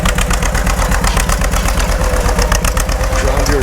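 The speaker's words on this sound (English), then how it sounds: "John Deere B." A John Deere B tractor pulls a two-bottom plow through a field, its engine running in a steady, loud, close chug with a constant low throb and no pauses.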